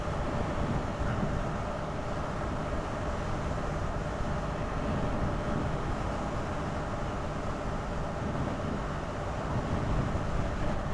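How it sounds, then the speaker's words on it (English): Steady, broadband wind roar buffets the microphone while riding an unfaired Honda CB500 motorcycle, continuous and unbroken, with no speech over it. "the wind noise isn't bad"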